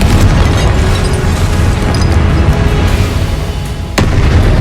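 A loud Confringo blast spell explodes in the Hogwarts Legacy video game, a sustained booming roar with a sharp fresh burst near the end, dense and close, with no voices.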